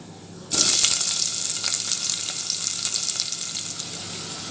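Onions drop into hot oil with cinnamon, cloves, fennel and curry leaves in a pressure cooker for Kumbakonam kadappa, bursting into a loud, sudden sizzle that holds steady and close.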